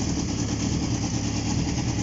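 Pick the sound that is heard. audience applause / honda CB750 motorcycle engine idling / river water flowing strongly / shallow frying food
honda CB750 motorcycle engine idling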